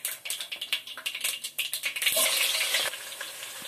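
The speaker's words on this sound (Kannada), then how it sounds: "ಈರುಳ್ಳಿ ಹಾಕೊಳ್ತೀನಿ." Onions fry in hot oil in a cooker, opening with quick rhythmic crackling bursts that merge into a loud, continuous close sizzle before easing slightly.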